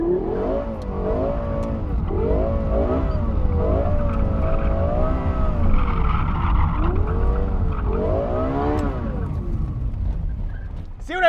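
A Lexus LFA sports car drifts with its engine rising and falling through repeated high revs while the tires slide and squeal, loud and continuous, with faint talk underneath.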